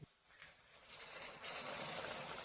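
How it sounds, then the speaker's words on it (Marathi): Hot water is poured into a pot of vegetable curry in a home kitchen, a soft steady gushing pour that builds and continues evenly, quiet and close, with no talking. "पाणी गरम झाले, आता भाजीत ओतून घेऊया."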